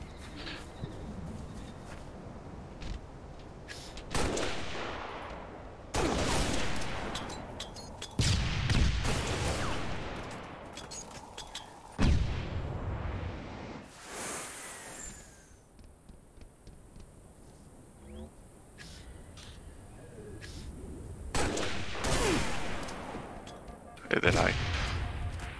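Sniper rifle shots ring out in Halo: Reach, with several loud, sharp cracks spaced seconds apart over game noise while a player talks throughout.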